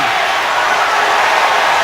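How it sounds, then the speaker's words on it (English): A football stadium crowd at a Rams at Redskins game roars steadily, a loud, continuous wash of yelling voices throughout. "Crowd yelling for an intentional grounding call"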